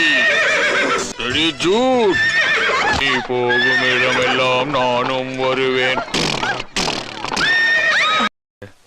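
Horses neigh loudly and repeatedly in long whinnies close by, mixed with a Tamil song and people talking, with the last part cut off abruptly.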